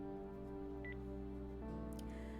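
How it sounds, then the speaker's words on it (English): A short electronic phone beep marks a call cutting off in a story-telling game, sounding once, brief and fairly faint over steady background music, with a second faint blip later. "A beep sounds and the call cuts off."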